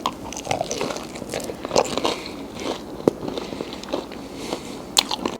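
Someone bites into crispy fried dough hotdog rolls, irregular crunchy crackles and chewing close to the mic, with no talking.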